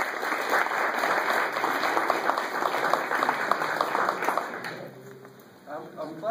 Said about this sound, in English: I'm glad I got a round of applause there.